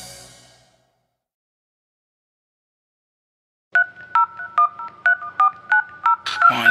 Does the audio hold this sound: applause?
no